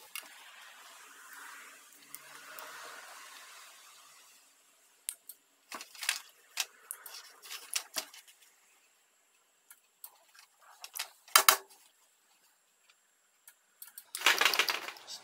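Jeep 42RLE transmission solenoid block on a 9-volt supply clicking in close, sharp bursts, first rapid irregular clusters, then scattered single clicks and a louder burst near the end, after a soft hissy start.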